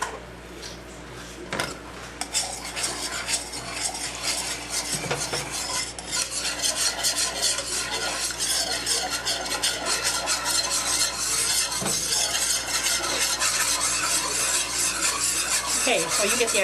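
Homemade gravy thinned with beef broth is stirred in a pan, producing a continuous scraping, rubbing sound of utensil against metal, steady and close with occasional sharper clinks, no voices.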